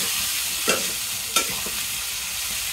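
Radish frying in a pan, a steady low sizzle with two sharp stirring scrapes close by, no voices.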